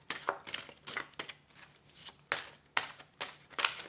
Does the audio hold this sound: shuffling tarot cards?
yes